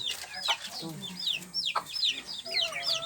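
Chickens on a small farm cluck and chatter close by in overlapping bursts, with a few sharper squawks mixed through the steady flock noise.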